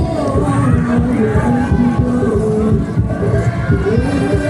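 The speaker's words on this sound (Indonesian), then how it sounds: "Tepuk tangan yang meriah untuk remaja Masjid Nurul Hidayah" Crowd noise with cheering and babble at a takbiran parade competition for a mosque youth group, loud and continuous throughout, with a voice talking and chanting over it.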